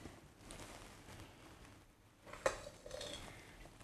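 Carrot and ginger soup finished with coriander is ladled into a bowl, giving soft clinks of a utensil against crockery and a light wet slop, with a sharper knock midway.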